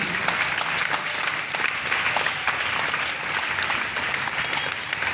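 Sustained applause from a school audience at KSRZPGHS Plus, Patamata Lanka, greeting NMMS exam winners: dense, continuous clapping from many hands, loud and close, filling the whole stretch.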